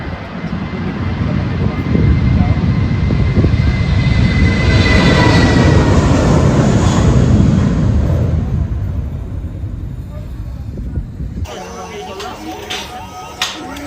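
A British Airways airliner passes near the Gibraltar frontier, a loud, broad roar that builds and holds for several seconds before easing, then cuts off as the ambient scene changes.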